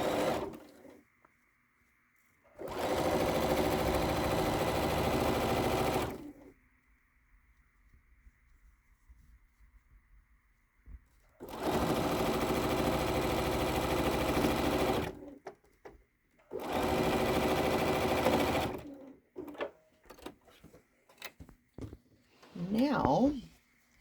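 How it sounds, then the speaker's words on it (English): A sewing machine stitching together quilt-as-you-go quilted pieces with a quarter-inch seam, running in three steady bursts of several seconds each, separated by near silence and quiet handling noises. "We're just going to sew on the 1 inch piece, again with a 1/4 inch seam."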